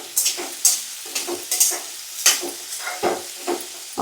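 Salted onions frying in a pan for a fish curry, soft sizzling under a series of spaced spatula scrapes and clinks, each stroke close and distinct.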